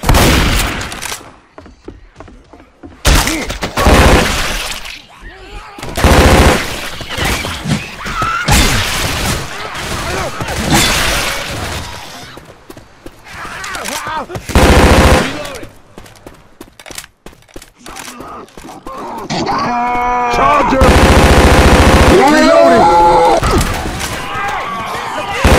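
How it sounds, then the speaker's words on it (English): Shotgun fire in the Left 4 Dead 2 zombie game, with loud, irregular blasts and crashes from the Parish campaign scattered among chaotic game noise and voices. "Grab the shotgun."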